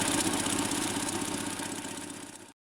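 Engine of a Land Rover Series 2 farm find running after start-up, with bent exhaust pipes: a loud, steady, rough idle with a pulsing rhythm, close up, that cuts off abruptly near the end.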